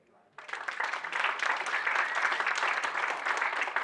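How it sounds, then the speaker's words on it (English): Conference panel audience breaks into sustained applause after a brief quiet start, dense clapping from many hands filling the room at steady loudness throughout. "have a round of applause for them"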